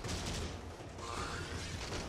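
Warframe gunfire during an Interception mission at the Mantle, a dense, steady rattle of rapid shots at moderate loudness throughout.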